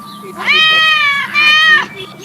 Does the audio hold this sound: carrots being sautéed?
no